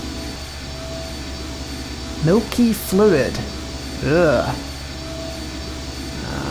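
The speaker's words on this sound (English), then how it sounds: "And we're into some sort of engine room." Continuous low, loud machinery drone of an engine room in the 1995 adventure game I Have No Mouth, and I Must Scream, a steady hum running beneath a man's brief spoken remarks.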